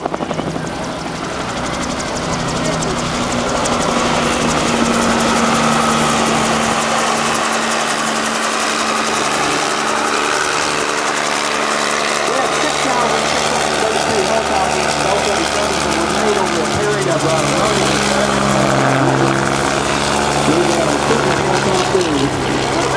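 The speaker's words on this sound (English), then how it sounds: "control the turn of the helicopter very rapidly" A Bell 47 helicopter's loud rotor thump and engine whine fill the air during a rapid turning demonstration at an airshow, the pitch shifting as it moves, with no voices.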